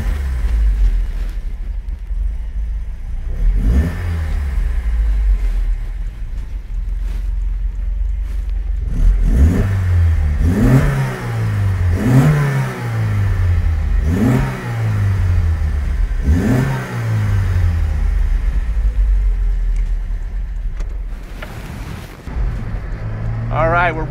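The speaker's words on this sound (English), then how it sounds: "I wanted to start this up because you know what? There's a lot of times you're never gonna hear the sound of one of these" A 1973 Lancia Fulvia Rallye 1.3 S, a rare Italian classic, cranks to life and then revs repeatedly in rising and falling bursts, loud and close, with a steady idle rumble between the revs.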